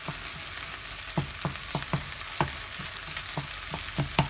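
Tomato paste frying in a paella pan for a chicken and seafood paella, a steady close sizzle broken by regular sharp scrapes and clicks of a spoon stirring it, with no talk.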